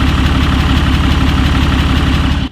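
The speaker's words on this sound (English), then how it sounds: "Every interval of that sound of the engine is so much louder now" A Cummins diesel truck engine with an aFe cold air intake idling loudly up close by the exhaust, with a fast, even knocking rhythm that cuts off abruptly at the end.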